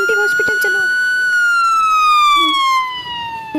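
A toy ambulance siren wails loudly and steadily in a high, slowly falling tone, close by and alone, during indoor doll play.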